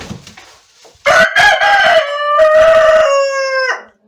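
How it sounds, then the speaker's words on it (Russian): A rooster crows loudly and close by, one long drawn-out cock-a-doodle-doo that rises, holds steady, then cuts off. "Петух говорит спасибо"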